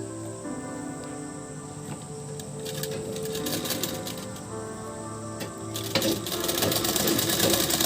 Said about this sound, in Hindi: इसी तरह दूसरे पार्ट को भी हम सिल लेंगे